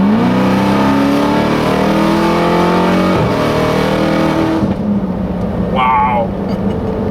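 Dodge Charger Hellcat SRT making 1200 bhp, its engine revving hard and very loud up close with a rising, rumbling roar that drops off near the end, while people talk over it.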